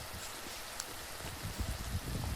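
Steady rain falls on a hiking day along the Appalachian Trail, a soft continuous hiss with scattered heavier drips and patters close by, no voices.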